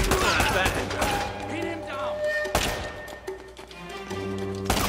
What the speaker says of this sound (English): Okay, I got shot from this direction.